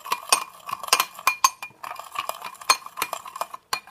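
A spoon stirs cereal and milk in a bowl, giving a quick run of bright clinks and taps against the dish with short pauses between strokes.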